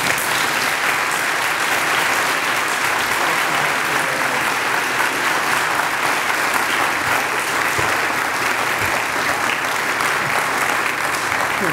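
Steady, dense applause from a large convocation audience welcoming General Robin Rand, continuous and even throughout, filling the hall without letting up.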